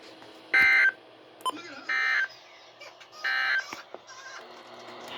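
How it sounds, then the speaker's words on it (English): NOAA weather radio emergency alert system tones from a required weekly test: three loud, evenly spaced electronic data bursts stand over a low broadcast hiss, with short clicks between them. "This concludes the test of the NOAA weather radio warning alarm and emergency alert system."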